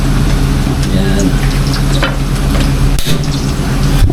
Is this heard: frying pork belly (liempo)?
yes